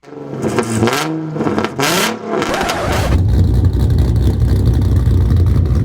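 A Kia Stinger V6 with an aftermarket exhaust revs sharply a few times with rising pitch, then settles into a loud, steady rumbling roar as the car pulls away.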